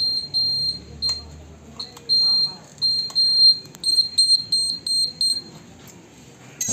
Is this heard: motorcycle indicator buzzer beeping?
yes